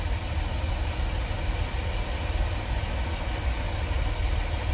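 A 2004 Chevrolet Astro van with a misfire problem idles with its engine cover off, giving a steady, close, low rumbling drone with no break.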